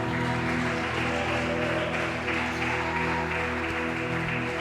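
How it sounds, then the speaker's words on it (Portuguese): Church congregation applauding during a live worship service, a dense, steady wash of clapping that runs throughout, mixed with music and crowd noise in a large room. "Aplauda Jesus, aplauda Jesus."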